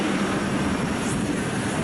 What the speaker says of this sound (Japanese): その後エンジンの逆噴射によって風の音が、一気に強くなり、機体がゆっくり、減速していきます。